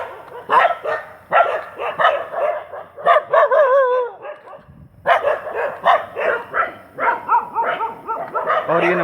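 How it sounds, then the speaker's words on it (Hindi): Several street dogs in Prayagraj bark repeatedly in irregular bursts, some close and loud, with yips and overlapping barks, a short pause midway and faint voices in the background. "इनके भौंकने की आवाज़ें सुन सकते हैं।"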